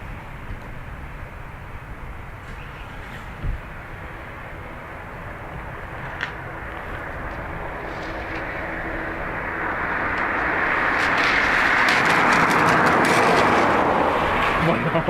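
Aircraft departing Dublin Airport, a broad engine roar that swells steadily over the last several seconds, growing louder and nearer beneath a continuous wash of ambient noise, with a couple of brief thumps early on.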